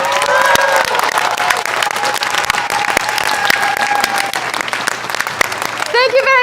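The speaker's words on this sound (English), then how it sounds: "A round of applause for all of our directors." Loud, sustained applause from a live show audience honoring the directors, with cheering and whistles mixed in and a voice breaking through near the end.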